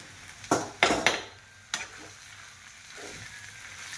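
Poha being tossed and mixed in a hot pan gives several sharp scraping stir strokes over a soft frying hiss, then quieter spatula movements without talk.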